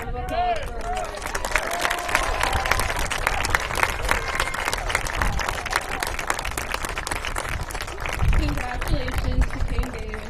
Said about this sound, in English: Let's get another round of applause for our royalty.